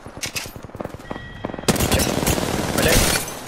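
Rapid video game gunfire from a team battle royale match, starting as distinct single shots and then breaking into dense, sustained automatic bursts, loud and close.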